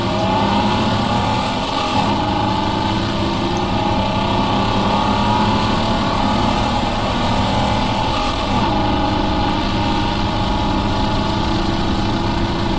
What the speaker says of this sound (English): look at the torque in that 6-cylinder 202.